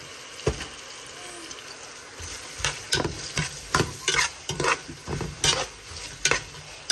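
Mustard seeds frying in hot oil in a pan, with a steady low sizzle and a run of sharp crackling pops and stirring scrapes that grow busier toward the end, close and with no talking.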